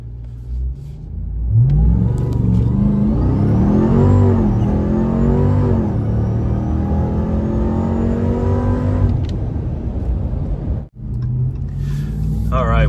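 A 1000 HP Hennessey Ram TRX engine revs hard and loud, rising and holding for several seconds before easing off, with a brief cut and another surge near the end; people talk over it.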